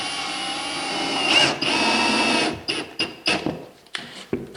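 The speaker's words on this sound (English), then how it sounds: "I'm using a drill today and not my normal impact driver." A power drill whirs steadily for a couple of seconds while driving screws into faux stone wall panels, then runs in several short, stop-start bursts, close by with no talking.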